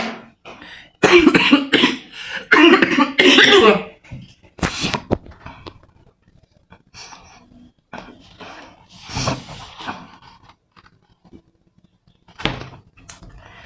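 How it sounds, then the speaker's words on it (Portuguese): A close, loud coughing fit with several harsh bursts in quick succession, followed by quieter scattered sounds and a few softer coughs or clicks. "desculpa a tosse"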